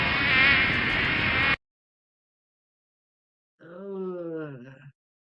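Loud, dense insect buzzing from flies or bees fills the first second and a half, then cuts abruptly to silence before a voiced, groan-like tone follows.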